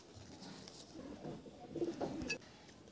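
Desi pigeons in a loft give faint, low cooing against a soft background hiss, with no talk.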